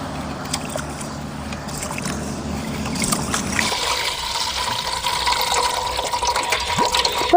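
Pearl millet and rice are swished and rinsed by hand in water, with close sloshing and splashing that grows busier and more turbulent partway through.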